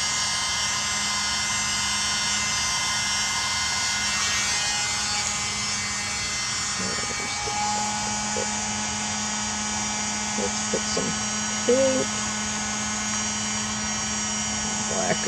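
A mini leaf blower pushes paint across a Dutch pour canvas, giving a constant high motor whine throughout with a few small clicks and taps over it.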